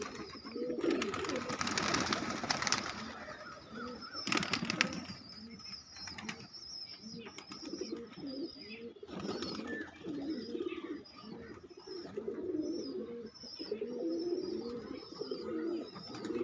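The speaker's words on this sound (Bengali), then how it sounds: "এই দিয়াল ধারেও দেখুন কত পায়রা খাচ্ছে" A large flock of pigeons feeding along a wall coos in overlapping low murmurs, with bursts of wing flapping early on and a few sharper chirps, all fairly quiet and at a slight distance.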